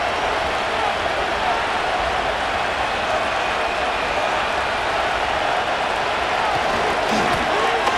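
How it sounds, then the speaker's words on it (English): Stadium crowd noise from a Madden NFL 25 game, Arizona Cardinals versus Minnesota Vikings, sounds as a dense, steady roar. It holds at a constant loud level throughout, with faint murmurs of commentary underneath. "they're going to hear it from this crowd"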